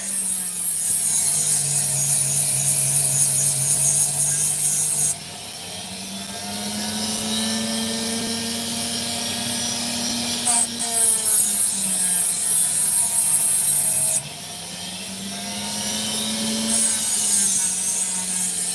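A Dremel rotary tool grinding opal makes a high-pitched whine that rises and falls in speed, with grinding sections near and fairly loud, broken by short pauses, no voices.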